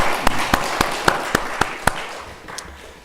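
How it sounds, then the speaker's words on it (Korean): A church congregation claps together in a steady unison beat, about seven sharp claps evenly spaced, then tapering off with a faint last clap or two. "박수 한번 치겠습니다"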